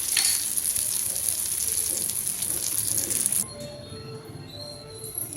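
Egg paniyaram batter sizzles and fries steadily in hot oil in a pan, a dense continuous crackle that drops to a softer, quieter sizzle partway through.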